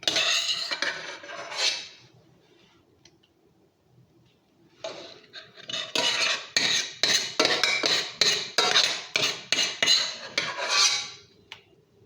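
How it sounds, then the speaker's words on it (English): Kimchi paste being mixed in a bowl: a brief burst of scraping, a pause, then a steady run of rhythmic clinks and scrapes against the bowl, close and fairly quiet, with no voices. "So I mixed it really well."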